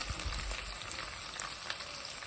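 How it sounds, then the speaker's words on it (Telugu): Small onions frying in hot oil in a pan, a steady crackling sizzle with scattered sharp pops, close and fairly quiet, with no other sound. "చిన్న ఉల్లిపాయలు వేసేసాను ఫ్రై చేసుకున్నాం"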